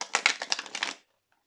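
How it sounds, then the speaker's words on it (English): A deck of Moonology oracle cards is shuffled quickly by hand for about a second, giving a rapid, papery flutter of riffling cards up close before it stops abruptly into silence. "Just give it a quick shuffle."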